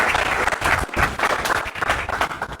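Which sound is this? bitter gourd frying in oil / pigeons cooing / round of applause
round of applause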